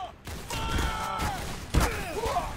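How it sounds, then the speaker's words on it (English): A rifle fires a few scattered shots in the Roblox game TC2, each a short crack over a busy game background with whistling effects, the strongest shot just past the middle. "Shoot some rounds down mid."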